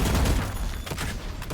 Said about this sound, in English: We're going to see a lot of gunfire coming out of Crane Train